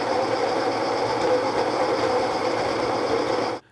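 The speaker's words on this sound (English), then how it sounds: "Definitely not the quietest grinder, but also not the loudest either." A Baratza Encore ESP espresso grinder runs steadily at a moderate, even whir for a few seconds, then cuts off abruptly into silence.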